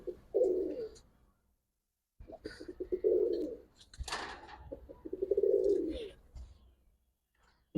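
Pigeons cooing nearby in several soft, throaty bursts separated by short pauses, with a brief knock in the middle.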